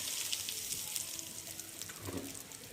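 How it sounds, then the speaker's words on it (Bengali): Egg sizzling as it hits hot oil in a kadai, a quiet, continuous crackling hiss that flares briefly near the end. "এর মধ্যে তেল হয়ে গেছে এর মধ্যে দিয়ে দেবো ডিম"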